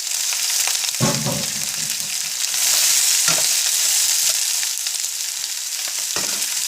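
Peppers and onions frying in hot butter in a pan, a bright, steady sizzle close by with a few thuds and scrapes as they drop in and get stirred, no voices.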